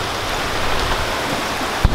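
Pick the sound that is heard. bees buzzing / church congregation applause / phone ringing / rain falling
rain falling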